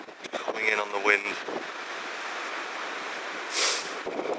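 Wind-driven waves rolling into a cove in Scotland in winter, a broad steady rush of surf and wind noise buffeting the microphone, with brief voice-like sounds near the start and a louder gust surge late on.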